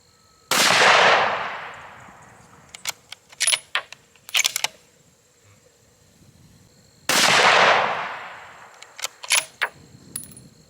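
Two loud, close rifle shots from a 22 Creedmoor ring out several seconds apart, each a sharp blast with a decaying tail, followed by clicks and clatter of handling.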